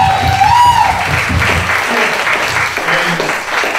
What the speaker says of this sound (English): Clap for you guys.